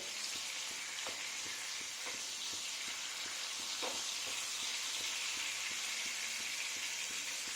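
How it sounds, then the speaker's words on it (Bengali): Tomatoes fry in a pan for a vegetarian paneer and vegetable curry. A steady sizzle with a hissing edge runs throughout, and faint regular stirring taps sound beneath it. "এটা একটু ভাজা হয়ে গেলে টমেটোর পিছন পিছনগুলো যাতে একটু ভালো করে ভাজা হয়ে যায় দেখে নিতে হবে"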